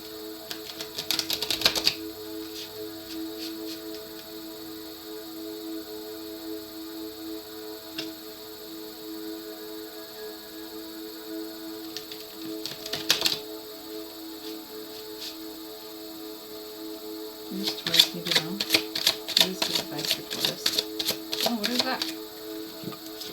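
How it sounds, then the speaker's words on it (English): Tarot cards are shuffled during a reading, with a flurry of riffling near the start, another short burst midway and a longer run of rapid crisp flicks near the end, all over a low steady background hum. "Couple more shuffles."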